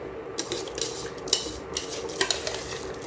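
Rice goes into boiling water in a pot for mutton biryani, with sharp metallic clinks and scrapes of a utensil against the pot over a steady bubbling, sizzling background.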